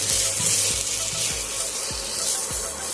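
Spice masala for chicken kosha frying steadily in a pan, a dense continuous sizzle with soft periodic stirring scrapes roughly every half second, close and fairly loud.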